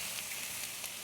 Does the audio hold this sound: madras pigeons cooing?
no